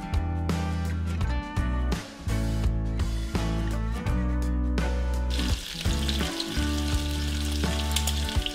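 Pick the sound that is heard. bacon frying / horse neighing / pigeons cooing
bacon frying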